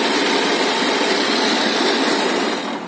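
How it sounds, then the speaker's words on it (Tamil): The motor of a tractor-mounted groundnut harvesting machine in a field near Madurai, Tamil Nadu, runs with a loud, steady, dense roar that barely wavers and eases slightly at the very end. "ஏங்க இந்த மோட்டார் நிப்பாட்டி நிப்பாட்டிடுங்க."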